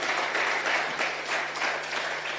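Steady, moderately faint crowd applause for Professor Mutale at the Bridging Worlds book launch, with dense overlapping claps sustained throughout and no talking.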